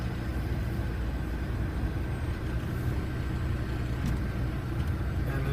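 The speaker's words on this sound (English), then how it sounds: "I'll pull forward at 5 miles per hour, apply my brakes, and make sure it's not pulling left or right" Inside a truck cab as it creeps forward at about 5 mph for a service brake test: a steady, loud engine and road rumble fills the whole stretch, with no voices.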